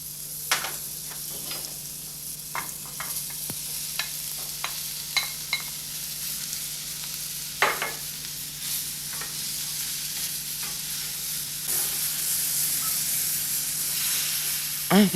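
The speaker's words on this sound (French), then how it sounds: "Faites-les sauter dans les échalotes blondies." Mushrooms sautéing in a pan with golden shallots, a steady close sizzle and hiss of frying with occasional stirring scrapes and taps, growing slightly louder toward the end.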